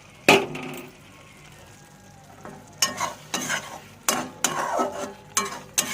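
Eggs get stirred into a thick ginger-garlic masala gravy in a pan, with a sharp clack at the start, a quiet pause, then a run of close, wet scraping and sloshing stirs in uneven bursts.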